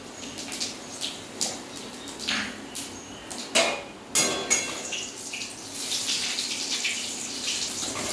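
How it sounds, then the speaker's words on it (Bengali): Whole cumin, dry red chillies and bay leaf crackle in hot mustard oil, a close, continuous sizzle broken by sharp pops and spits, with busier, stronger spattering in the second half. "এবার ওই তেলের মধ্যে আমি গোটা জিরে, শুকনো লঙ্কা আর তেজপাতা ফোড়ন দিয়ে দেব।"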